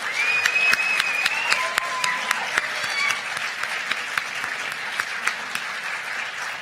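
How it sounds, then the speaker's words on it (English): A theater audience at a state poetry recitation finals applauds steadily for the student reciters, a dense wash of clapping with scattered sharper claps standing out and a faint whistle, no speech. "We're going to give another round of applause to all of our student reciters from round one."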